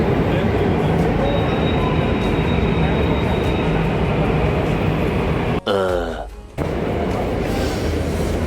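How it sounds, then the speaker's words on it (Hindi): A steady rumble of a Delhi Metro train running on the tracks fills the clip, with a short sharp screech and rattle near the end. "चलो भाई अब फटाफट मेट्रो में चढ़ते हैं।"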